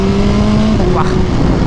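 A BMW S1000RR motorcycle engine revs with a steady, loud droning note that shifts pitch partway through, while a voice talks over it.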